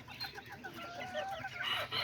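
Kikiriki and Azteca chickens and roosters in a backyard flock give a short, faint burst of clucking calls.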